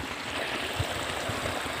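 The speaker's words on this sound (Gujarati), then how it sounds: "હજી આટલું પાણી જાય બાપરે." Water rushes and gurgles steadily through a peanut field flooded by heavy rain, a continuous close-up flow with small splashing pulses, no voices.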